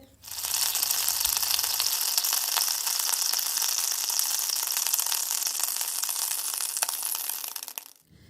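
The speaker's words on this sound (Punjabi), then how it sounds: "ਆਪਾਂ ਲੋ ਫਲੇਮ ਤੇ ਤੜਕੇ ਨੂੰ ਕੜਛੀ ਦੀ ਹੈਲਪ ਦੇ ਨਾਲ ਹਿਲਾਉਂਦੇ ਰਹਿਣਾ ਆ" Onion tempering sizzles steadily in a pan over a low flame, stirred with a ladle for homemade langar cooking; a continuous close hiss with faint scraping runs for several seconds, alone without talk.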